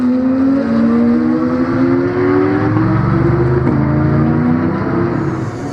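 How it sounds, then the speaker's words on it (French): Porsche race cars battle at the Magny-Cours circuit, with several loud, close engines holding high steady revs and shifting pitch through gear changes, continuous and without voices. "la lutte est intense pour la 5e position entre Favre, Rabault et Labbé sur le magnifique circuit nivernais"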